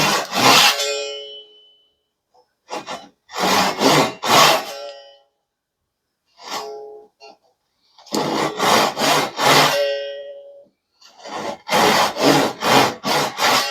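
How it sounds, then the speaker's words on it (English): A Western-style hand pull saw cuts a kerf in wood for a reproduced stair spindle, giving four bursts of rapid rasping strokes separated by pauses, close and loud. "This is a pull saw"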